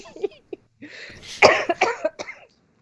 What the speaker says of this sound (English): I'm gonna try to not cough in everyone's ear tonight